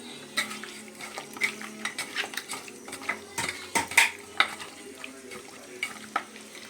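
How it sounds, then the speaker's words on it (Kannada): A spoon stirs ginger garlic paste and spices in a pan for chicken gravy, scraping and clinking against the metal in steady repeated strokes over a soft sizzle, close and moderately quiet. "ಎಲ್ಲ ಹಾಕ್ಕೊಂಡು ಇವಾಗ ಮಿಕ್ಸ್ ಮಾಡ್ಕೊತಾ ಇದ್ದೀನಿ"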